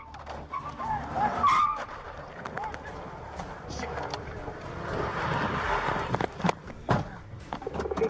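Car tires skid and squeal during a police chase, loud and sustained over road and engine noise with sharp bangs scattered through it, while voices talk over it.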